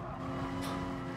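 A race car in the GT Sport video game roars steadily with a brief tire squeal as it skids off track, engine drone loud and constant over the short moment.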